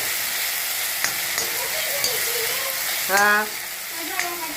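Garlic fries in a pan while bitter gourd upperi is being made: a loud, even sizzle runs throughout, broken by a few light clinks and a brief stirring rattle near the end.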